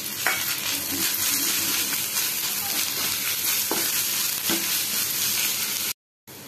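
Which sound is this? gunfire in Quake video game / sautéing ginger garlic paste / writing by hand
sautéing ginger garlic paste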